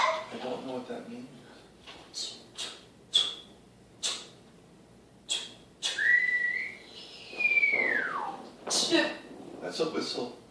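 Short whistles come through between bursts of speech, with a rising whistled note and then a long falling glide near the middle, all fairly close and moderately loud.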